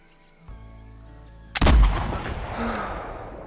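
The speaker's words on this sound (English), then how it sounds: "I think the second shot was a complete miss." A rifle fired in a shooting video game from a prone position, one loud sharp blast with a booming echo that rolls away, after a quieter thump, over faint background game sounds.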